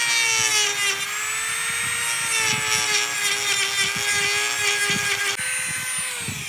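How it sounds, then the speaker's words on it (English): A Dremel cutting wheel slicing through a roof-rack wind fairing with tape on its back side, giving a steady close high-pitched whine whose pitch shifts slightly as the wheel bites, with no talk. "I'm going to try a little cutting wheel on my Dremel and just having tape on the back side."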